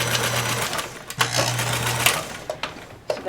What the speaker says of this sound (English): all I'm going to do is just stitch over just to join it.